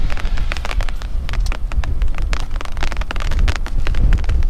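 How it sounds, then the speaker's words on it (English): Heavy wind and spitting rain on Organ Mountain near Las Cruces, a loud, continuous roar of gusts buffeting the microphone with scattered rain patter throughout, no talking. "First rain we've had out here in a long time."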